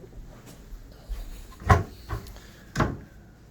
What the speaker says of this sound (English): But these open up and they have drawers that slide out.